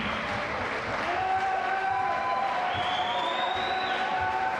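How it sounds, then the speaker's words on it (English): An indoor high school gym crowd applauds the champion boys bowling team, a sustained wash of clapping with some cheering and a few whistles over it. "Please join me in a big round of applause for the 2026 WBL champion boys bowling team."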